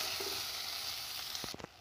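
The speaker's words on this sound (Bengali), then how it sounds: "পেঁয়াজ খুব ভালো করে আমি লাল করে আমি ভেজে নেব।" Chopped onions sizzling in hot oil, a continuous close hiss with a few sharp scrapes of stirring toward the end, no voices.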